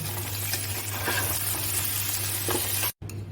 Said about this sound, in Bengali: আলুগুলো লাল লাল করে ভাজা হয়ে গেছে এবার আমি আলুগুলোকে তুলে নেব